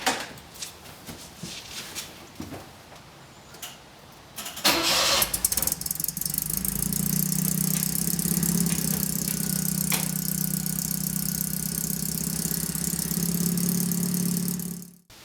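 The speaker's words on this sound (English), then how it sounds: "now I got to run it for a couple minutes with ATF in the transmission" A Saab Sonett engine cranks and catches after a quiet stretch, then runs steadily at a loud, even idle with a faint rattle for the remaining ten seconds, recorded close by with ATF in the transmission.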